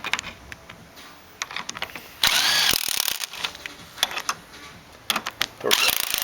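A power tool tightens the seat bolts on a 1998–2005 Ford Ranger seat assembly, with short bursts of whirring and ratcheting separated by pauses and a couple of longer sustained runs, all close by.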